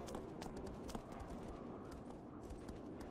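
A horse in Shadow of the Colossus clip-clops steadily at a quick pace. The hoofbeats are faint and distant and sit under a constant ambient wash.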